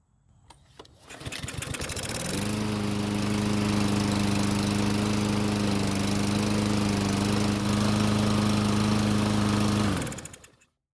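A walk-behind lawn mower's small petrol engine catches after a few pulls, then runs at a steady, loud, buzzing drone for about eight seconds before cutting out.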